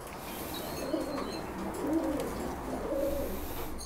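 Yangzhou spotted pigeons, a black-and-white high-flying breed, coo softly in a few low, rolling phrases that repeat through the clip against a steady background hiss, with no one speaking.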